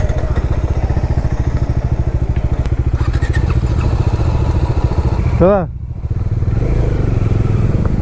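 A motorcycle engine runs steadily at close range with a rhythmic pulsing rumble as the rider sets off from home on a weekend road trip, briefly dropping in level midway, while a voice talks over it.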